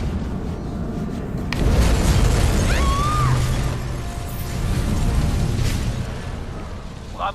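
An explosion in Batman: Arkham Origins, a sudden deep boom that swells into a long rumbling roar with debris and crackle, loud and close, followed by lingering low rumble and faint background sounds.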